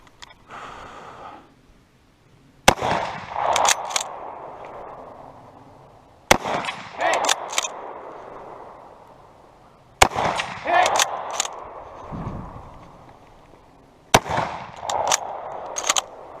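Gunfire during a 3-gun shooting competition stage, four sharp loud reports spaced a few seconds apart, each followed by clattering and movement noise, with faint voices in the background.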